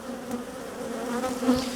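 Honeybees swarm around an open hive during a requeening inspection, giving a dense, steady buzz that rises and falls as individual bees fly close past the beekeeper, with no talking.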